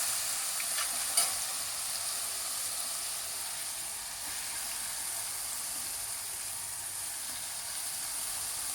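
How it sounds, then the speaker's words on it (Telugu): Grated pumpkin for halwa fries in a pan with a steady, even sizzle and hiss, heard up close with one faint clink near the start and no talking. "ఇప్పుడు ఈ తురుము వేసుకొని వేయించుకోవాలండి"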